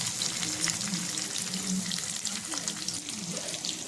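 Crushed garlic and curry leaves frying in hot oil in a home kitchen, a loud continuous sizzle and crackle with sharp spits throughout, no talking.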